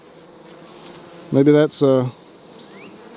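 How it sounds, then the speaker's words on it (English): Honey bees clustered in a ball at the back of a hive buzz loudly and close in two strong bursts over a low, constant drone, with a brief voice. "I don't really know why there's a ball of bees back here"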